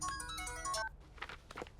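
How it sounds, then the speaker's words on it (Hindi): A telephone ringtone plays a bright electronic melody, close and clear, then breaks off into faint shuffling and muffled background noise. "Sir, phone."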